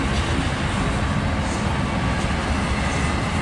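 A fast-moving train rolling into town, a continuous loud rumble of wheels and cars with a steady roar that holds throughout and no voices.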